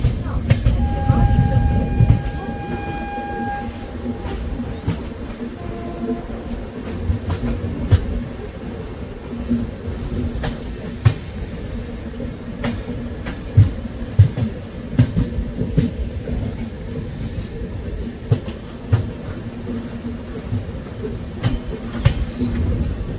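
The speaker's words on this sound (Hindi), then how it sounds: "दो ट्रेन एक साथ अराइवल होते हुए रेवाड़ी पहुंचने वाली है।" The Ajmer Shatabdi Express runs on rails toward Reväri station, with a steady rumble and repeated clacking wheel beats, a brief horn-like tone near the start, heard from inside the moving train.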